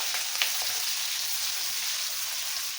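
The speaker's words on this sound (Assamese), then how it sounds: "মই ইয়াতে পিঁয়াজখিনি ধুনীয়াকৈ মিলাই দিলোঁ" Onions being stirred as they fry in a pan for fish kaliya, a soft, steady sizzle with a faint scrape early on and no speech over it.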